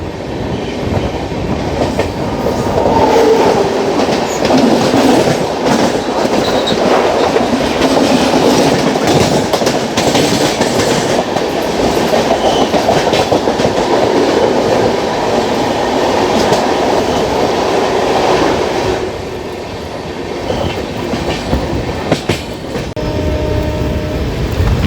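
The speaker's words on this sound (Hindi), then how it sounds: "सामने से आ रही है नवजीवन सुपरफास्ट एक्सप्रेस, चेन्नई सेंट्रल से चलकर अहमदाबाद जंक्शन को जाने वाली" Navjivan Superfast Express, running from Chennai Central to Ahmedabad Junction, passes near Vijayawada with a loud, sustained rumble and clatter of wheels over rails for about twenty seconds before fading, with no talk.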